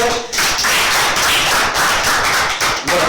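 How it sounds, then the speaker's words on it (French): Applause for a correct quiz answer on a television quiz show, a burst of dense, rapid clapping from a group that stays loud and close for a few seconds. "on acclame tous"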